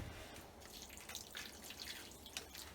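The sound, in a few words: pouring water into a brick stove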